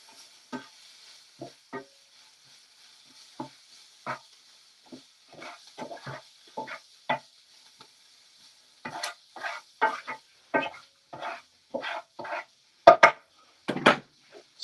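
White rice cooks in a pan, stirred in a series of short scraping and sizzling strokes that start sparse and grow quicker and louder toward the end, close up with no talking.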